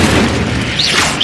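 A fire spell cast in the video game Hogwarts Legacy gives a short, loud whooshing burst with a sweeping hiss. It sits over a dense, continuous game soundscape.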